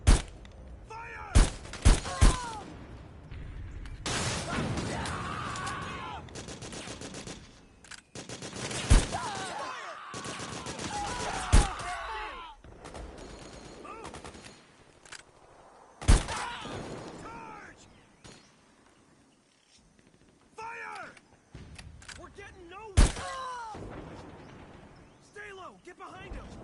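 Bursts of automatic gunfire and single shots ring out in a Metal Gear Solid 4 battle, loud clustered volleys separated by quieter stretches, with soldiers shouting orders over the combat and occasional glassy shattering.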